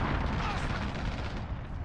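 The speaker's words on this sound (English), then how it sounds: "Cruise missile incoming. Take cover." A cruise missile strike in Modern Warfare lands as a loud, rolling blast with heavy low rumble that decays over a couple of seconds in a busy battlefield mix.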